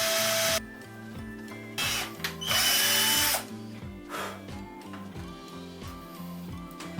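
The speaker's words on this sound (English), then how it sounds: "And now we can just start getting some screws in." A power driver sinks screws to block the Floyd Rose tremolo of a cheap metal guitar, a G4M 529 Pro-FR, giving several short whirring bursts with a rising pitch and brief pauses between them, close up.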